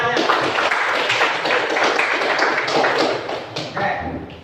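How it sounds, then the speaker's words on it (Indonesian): Dense, loud applause from an audience at the close of an Indonesian discussion session, a continuous wash of many hands clapping that holds steady and then eases slightly at the end. "Ya, tepuk tangannya."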